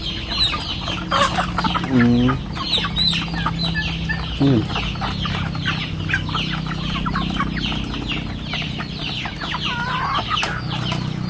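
Rhode Island Red chickens, suffering colds in the rainy season, cluck and murmur close by with steady overlapping chatter and a couple of louder squawks, no human voice.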